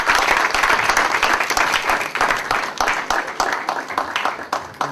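A church congregation at MPE Bethel in Soissons applauds in a dense, sustained burst of clapping that stays loud and steady throughout.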